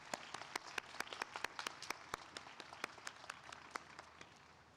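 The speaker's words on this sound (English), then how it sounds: "give one more round of applause for the class of 2020 graduates" Scattered, fairly faint clapping from a modest audience for psychology graduates at a hooding ceremony, individual claps distinct and irregular for a few seconds.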